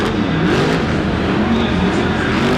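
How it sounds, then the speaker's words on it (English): Tough trucks race side by side on a dual Chicago-style track at a motorsports show, their engines roaring loud and continuous, rising and falling as they rev. "We've got tough trucks, and these guys are wild."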